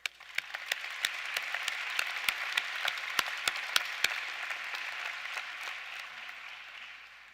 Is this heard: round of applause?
yes